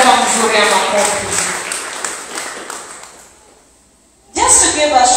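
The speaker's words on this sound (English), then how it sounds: "Give a good hand clap." Church congregation clapping hands together in a dense, rhythmic burst that fades away to near silence, then resumes loudly at the end.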